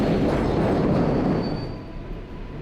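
A subway train rumbles past loud and close, a dense roar with faint wheel squeal that eases off slightly toward the end; no one speaks.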